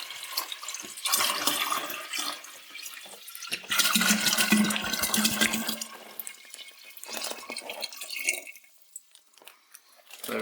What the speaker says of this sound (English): I'm using the same mineral water, which is 5 litres worth, and I'm just going to pour this all in.